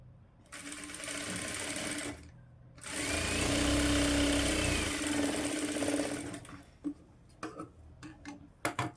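Domestic sewing machine stitching a lined blouse, with two loud, close bursts of fast, steady motor whirring and needle clatter separated by a short pause, then a few scattered clicks and taps as it stops.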